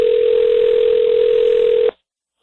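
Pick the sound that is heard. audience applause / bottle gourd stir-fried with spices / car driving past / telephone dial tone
telephone dial tone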